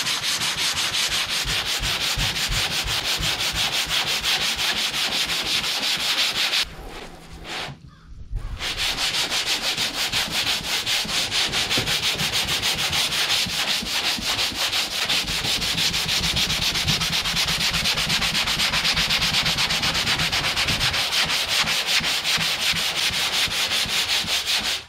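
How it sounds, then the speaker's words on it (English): Wet sanding with 40-grit sandpaper and water from a hose on the bodywork of a 1959 Dodge Coronet: a steady, close, loud rasping scrub that runs continuously for most of the stretch, with one short pause partway through. "Cool thing about wet sanding is I don't have to really worry about the dust."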